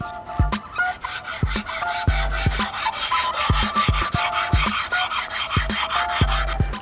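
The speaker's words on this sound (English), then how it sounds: "So I've got this sharpening stone, going to clean up the deck of the block." A sharpening stone is rubbed back and forth across the deck of a Ford Falcon turbo engine block, a steady close rasping scrape with regular strokes and periodic low knocks, no talking.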